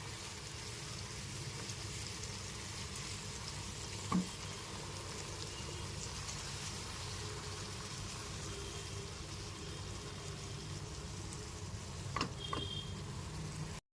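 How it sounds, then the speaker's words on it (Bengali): Onion, ginger, garlic and green chili paste fries on a medium gas flame for a chicken curry, an even, continuous close sizzle throughout, with two brief utensil knocks against the pan. "গ্যাসের ফ্লেমটা মিডিয়ামে রেখে খুব ভালো মতো পেঁয়াজের সাথে মিশিয়ে ভালো মতো কষিয়ে নিতে হবে"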